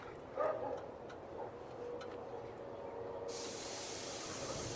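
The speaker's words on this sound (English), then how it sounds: "that's what you wanna hear. Nice sizzle." A thick porterhouse steak hits a grill heated to around 500 degrees, a faint crackle first, then a loud, steady broadband hiss of sizzling swells in and holds, close by with no talking.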